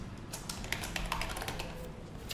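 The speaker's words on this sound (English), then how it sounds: "So I can also type some text over here." A computer keyboard clatters with a rapid, continuous run of close keystrokes as text is entered into a Tkinter input field, steady and moderately loud with no voices.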